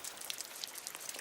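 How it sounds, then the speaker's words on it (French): Rain falling on the bare young rock of a volcanic mountain summit, a faint, steady patter of scattered drops ticking and crackling close by with no voices. "La pluie qui tombe quotidiennement sur les sommets de la montagne glisse sur la roche encore jeune."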